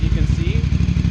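A Ducati 800 Scrambler track bike idles through a custom shortened, repacked exhaust, giving a loud, close, rhythmic low thump under a voice.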